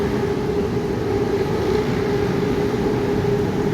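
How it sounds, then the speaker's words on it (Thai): A train rumbles past close by in Thailand, a loud, continuous rolling roar with a low steady drone and no talking. "นี่ก็รถไฟนะพี่น้อง"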